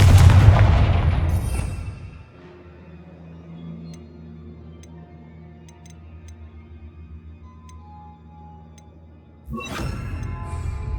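A Confringo fire blast spell in Hogwarts Legacy, one loud booming burst that decays over about two seconds, followed by quiet ambience and a second loud burst near the end.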